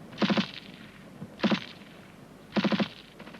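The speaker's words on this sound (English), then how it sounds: "the rest of the rifle group are giving them covering fire" Rifle fire from a section's rifle group giving covering fire crackles in three short bursts of rapid shots, each a tight cluster of cracks separated by pauses, moderately loud with no voices.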